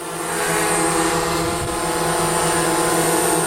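DJI Mavic Mini and Mavic Pro drones hover close by with a steady, loud, high-pitched propeller whine and buzz that fills the whole stretch without a break.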